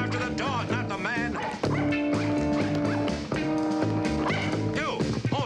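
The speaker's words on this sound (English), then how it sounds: "No, Sally, go after the dog, not the man" A dog barks and yips in a busy street chase, its calls riding over a loud continuous bed of orchestral music that masks much of it.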